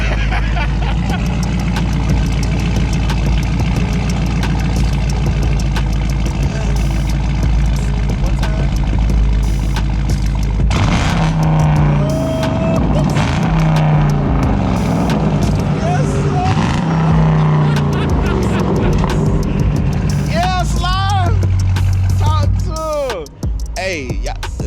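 Widebody Dodge Charger engine at a car meet, a steady deep rumble and idle drone running throughout, with people talking over it and louder voices near the end.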